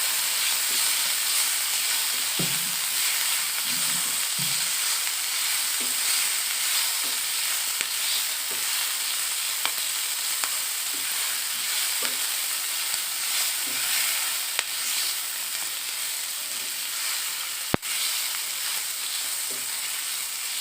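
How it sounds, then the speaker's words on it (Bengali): A teaspoon of oil sizzles in a pan while something fries before shrimp flesh is added: a constant close hiss with soft utensil taps and one sharp clack near the end. "ফ্রাই করার জন্য আমি 1 টিস্পুন অয়েল দিয়েছি।"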